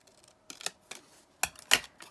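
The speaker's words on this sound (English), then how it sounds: "So I'm just going to snip this down here" Scissors snipping through card packaging while making craft tags, a few quick separate cuts and clicks spaced unevenly, close and fairly quiet with no talk.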